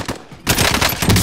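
Rapid automatic gunfire from a Call of Duty gulag match, a short quiet stretch then a loud sustained burst of close shots.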